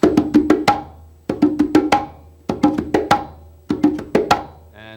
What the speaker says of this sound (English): So first let's learn the 5-stroke roll, which is 2 on each hand, and on the 5th beat it would be a slap.